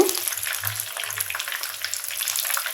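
Folui fish kofta fries in oil, a soft continuous bubbling sizzle with fine crackles, close and even in level, no voices.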